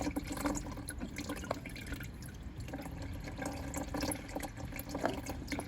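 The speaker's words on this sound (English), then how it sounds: "Well, hot oil drains fast." Hot engine oil drains from a 1984 Honda V65 Sabre VF1100S motorcycle into a drain pan, a faint steady trickle and splatter of liquid with a few drips and no talk.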